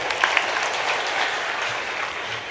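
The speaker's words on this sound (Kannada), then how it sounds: "ಹೌದಾದ್ರೆ ತಾವು ಚಪ್ಪಾಳೆ ತಟ್ಟಬೇಕು" A hall audience claps together at a public speech event, a dense, even patter of many hands sustained throughout at moderate loudness.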